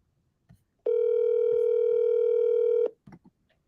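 Telephone ringing on an outgoing call, one steady electronic ring tone lasting about two seconds, clear and alone against a near-silent line.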